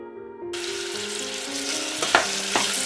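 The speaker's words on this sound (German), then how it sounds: "So, Kümmel brutzelt schon, deswegen gebe ich jetzt auch schon die Zwiebeln mit hinzu." Caraway seeds sizzle in hot fat in a pan ahead of the onions, a close, steady frying crackle with a couple of sharper pops and a faint stirring scrape, no voices.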